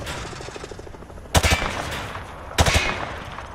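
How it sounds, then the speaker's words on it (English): Two short bursts of rapid gunfire aimed at range targets in a Call of Duty game, sharp and fairly close over a steady low background hum. "Grab that weapon off the table and fire at the targets behind you."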